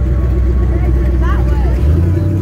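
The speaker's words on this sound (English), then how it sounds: "Careful, this car's going." A sports car pulls away toward the exit at the end of an evening car show in Safa Park, Dubai, its engine a steady close rumble that shifts near the end, with people talking nearby.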